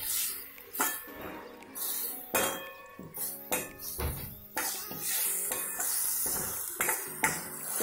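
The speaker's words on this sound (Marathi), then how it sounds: "मी आता ह्यामध्ये कांदा घालते, टोमॅटो मस्त आपण मिक्स करून घेणार आहे।" Onion and tomato fry in a pan after browned garlic, with a soft sizzle under intermittent clinks and scrapes of a spoon stirring against the metal, close and uneven in rhythm.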